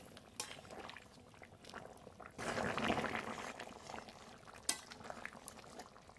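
A pot of rui fish and mann kochu taro curry simmers quietly with soft bubbling, plus a few faint clinks and a louder burst of stirring midway through.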